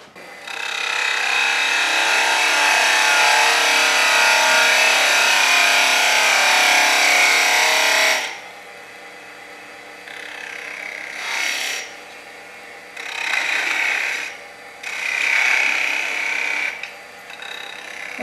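A spindle gouge with a 45-degree bevel parts off a wooden Christmas globe ornament turning on a lathe, giving a loud, steady scraping rasp for about eight seconds, then several shorter bursts of cutting separated by quieter pauses.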